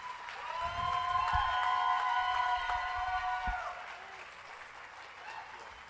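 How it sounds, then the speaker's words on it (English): An audience claps steadily for several seconds, loud at first and then tapering off, with a few cheers mixed in. "Give yourselves a round of applause."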